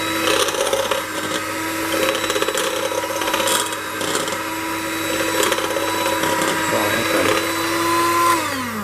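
A XIAOCAI electric hand mixer runs continuously, a steady close motor whine with rattling beaters that shifts pitch slightly and winds down at the end.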